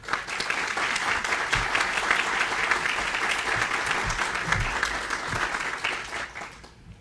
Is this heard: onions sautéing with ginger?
no